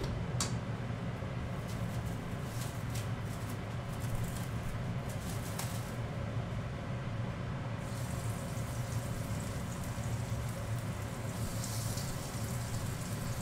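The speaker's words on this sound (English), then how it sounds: "drop that shrimp in just a moment." Shrimp sizzle in a hot pan with a steady, dense hiss and crackle that runs throughout, medium-loud and close, with a few sharper pops and no voices.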